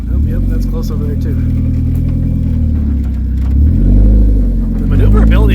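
A derby car's engine hums and revs while it drives through traffic, a steady mid-pitched drone that swells near the end, with loud talking from inside the car over it.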